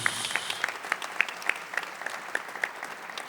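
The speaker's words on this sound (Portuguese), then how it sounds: "Aplaudamos a palavra de Deus" Church congregation applauding during Mass, a steady burst of many hands clapping together, dense and even for a few seconds, filling the room without any voices over it.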